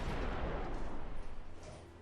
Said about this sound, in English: I'm just holding the fire button down now and just waiting for the missiles to reload themselves